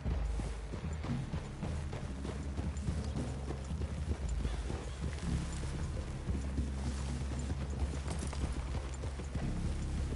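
Horses' hooves clip-clopping in Red Dead Redemption 2, a continuous close, loud patter of several horses moving together, with a faint whinny and no talking over it.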